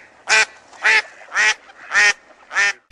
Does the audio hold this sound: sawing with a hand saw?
no